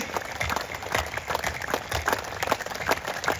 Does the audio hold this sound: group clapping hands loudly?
yes